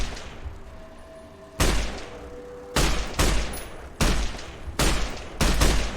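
Bursts of gunfire in Fallout: New Vegas, a single shot followed by five loud volleys fired in quick succession with short gaps between them, booming and close.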